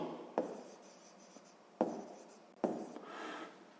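Pen or pencil writing a number on paper during a sixth-grade maths exercise: three quick scratchy bursts of strokes, close and fairly quiet, with no talking.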